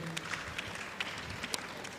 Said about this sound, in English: Please, can you applaud him?